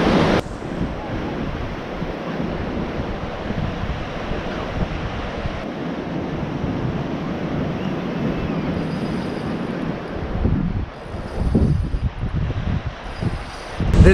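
Sea waves breaking on the rocky shore at Kleinmond, South Africa, a continuous loud wash of surf with wind buffeting the microphone and a louder surge of water near the end.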